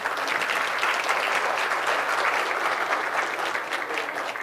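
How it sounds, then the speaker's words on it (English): Conference audience applause fills the hall, dense and steady throughout, with no talk over it. "So please give them a big applause again."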